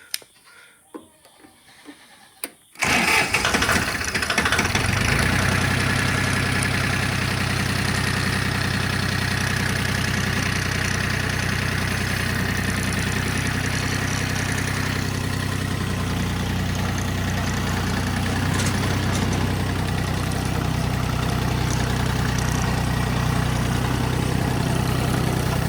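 A tractor engine starts after a short quiet stretch, then settles into a steady, loud, close idle that runs throughout with a constant low drone.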